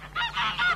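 A goose in an animated series honks three times in quick succession, loud, close and nasal, with no speech over it.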